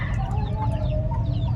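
Chickens cluck steadily at a farm where newly hatched chicks are kept, several birds calling close by over a dense, constant low rumble, with soft chatter and no speech.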